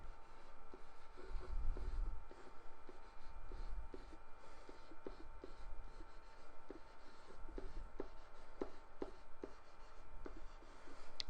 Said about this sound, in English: I'm going to write out all the parts I need.